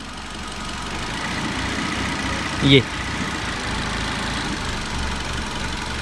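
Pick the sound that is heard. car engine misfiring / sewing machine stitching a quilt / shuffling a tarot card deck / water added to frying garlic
car engine misfiring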